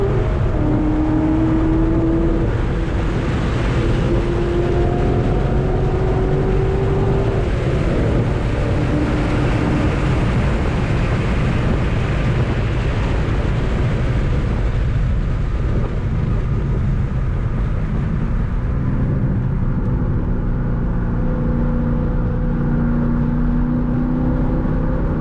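A Corvette C6 Z06 at speed on a race track, its engine droning loud and steady with rising and falling pitch through gear changes and throttle lifts, heard continuously without talk.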